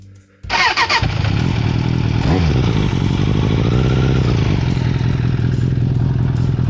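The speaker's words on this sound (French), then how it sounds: "tu démarres ton moteur et t'écoutes si il n'y a pas des claquements bizarres, des bruits suspects" A used motorcycle engine is started and left running for a buyer's check: a quiet moment, then a clattering start that settles into a loud, steady, close idle with a brief rev.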